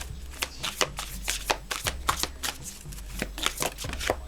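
Tarot cards being shuffled and drawn by hand, a rapid close sequence of crisp riffling slaps and flicks repeating through the stretch, with no voices.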